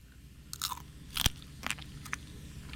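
Salted crunchy snack bitten and chewed up close, with several sharp, crisp crunches in quick succession against a quiet background.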